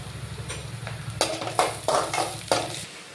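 Onions with two broken dried red chillies frying and being stirred in a pan, a steady close sizzle with several sharp scraping stir strokes, no talk.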